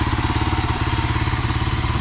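Kawasaki KLR motorcycle engine running at idle, a loud, close, steady thumping single-cylinder throb with even pulsing rhythm throughout.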